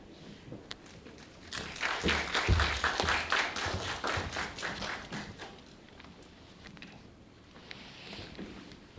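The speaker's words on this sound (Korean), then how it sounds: "박수로 환영하도록 하겠습니다" An audience at a company job-introduction event claps to welcome a team leader taking the stage. The applause is moderate and swells, then fades over several seconds, with no speech over it.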